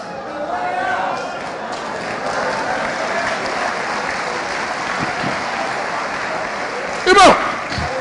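A church congregation at a preaching conference claps for the singers, a broad, moderate ripple of applause beneath someone speaking, with a brief sharp burst near the end.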